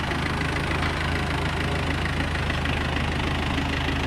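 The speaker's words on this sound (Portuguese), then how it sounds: "chegamos agora com o caminhão" A truck engine idles steadily at night after arriving on a farm, a constant low rumble with a faint knocking pulse, close and unbroken, with no talk.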